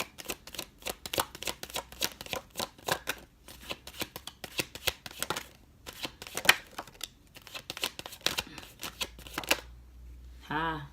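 Tarot cards being shuffled by hand in rapid, riffling bursts of crisp slapping and flicking, close and fairly loud, with a brief pause near the end.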